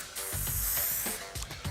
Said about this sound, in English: Then spray this.